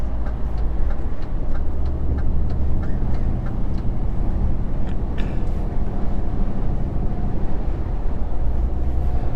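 A vehicle engine idling with a low purr and grumble, a steady, loud rumble that holds throughout with faint ticking and rattles on top, no voices.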